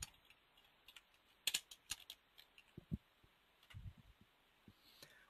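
Someone types a joint name on a computer keyboard in steel connection design software, with scattered close key clicks at an uneven rhythm and a few quiet low thumps.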